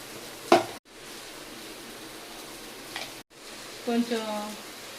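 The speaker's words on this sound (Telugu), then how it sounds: "జీలకర్ర పొడి వేసి, ఇదిగోండి తిప్పుతున్నాను." Moong dal fry with cabbage and cumin powder sizzling in a pan, with close clattering stirs and scrapes; the frying hiss drops out twice, and a short voice-like burst comes near the end.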